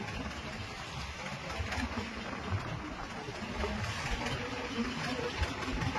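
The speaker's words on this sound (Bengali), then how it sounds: "দেখুন একটা ট্রলার আমাদের পাশ দিয়ে এগিয়ে চলেছে" A fishing trawler engine drones steadily as the boat pushes through rough sea in the Bay of Bengal, a constant low rumble mixed with broad wind and water noise throughout.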